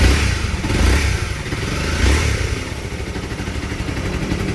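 A restored Honda CBR250R motorcycle engine runs steadily up close, a loud continuous idle with a couple of brief rev swells and some mechanical clatter, no talking.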